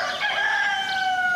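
A rooster crows once, a drawn-out call close and clear on a countryside farm with goats, hens, swans and turkeys, with no talk over it.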